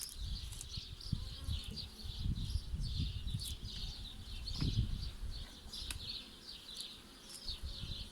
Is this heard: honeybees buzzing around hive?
yes